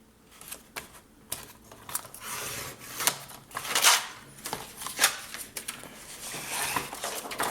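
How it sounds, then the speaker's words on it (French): Cardstock being cut for a scrapbooking folio, a series of sharp clicks and scraping strokes in an irregular rhythm, close and fairly clear, with no talking. "j'en profite pour couper un peu plus loin pour l'autre carte sur la marque horizontale"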